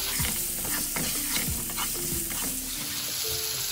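Potatoes stirred in a hot pan for aloo gobi, loud rhythmic scraping and clattering strokes over a continuous bright sizzle.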